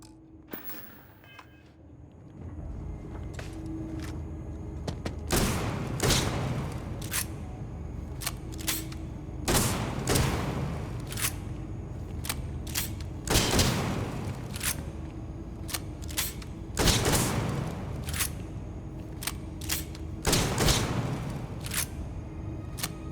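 Loud shotgun blasts from a Starfield firefight come about every four seconds, each a sharp, heavy boom with a short decay. Lighter clicks and a low background hum fill the gaps between them.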